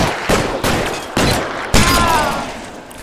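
Gunfire in the video game L.A. Noire: four sharp shots spaced at a fairly steady rhythm, loud and close, each leaving a ringing tail.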